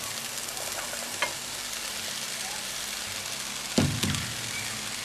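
Carrots and cauliflower hitting a hot pan in a Moroccan spicy noodle dish, giving a steady, loud sizzle throughout with a couple of sharp clatters of stirring near the start and again toward the end.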